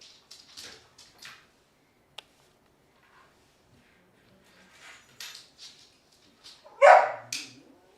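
Dogs in World of Warcraft bark and yip in a quick string of short calls, some close and sharp, with a louder burst of barking near the end and quiet gaps between.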